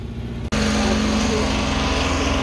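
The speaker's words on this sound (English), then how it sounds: "It's kind of noisy today up here with these tractors and clearing this track" Tractors working to clear a track outdoors give a steady, loud engine drone that fills the whole clip, broken only by a brief dropout near the start.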